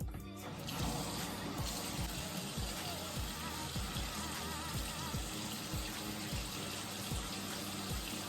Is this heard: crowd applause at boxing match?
no